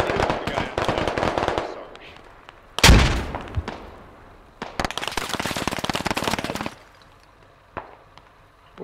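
Gunfire in the military shooter game Squad: dense bursts of automatic rifle fire and sharp single shots, with a loud close blast midway, then a long rattling volley before it tapers to sparse distant pops.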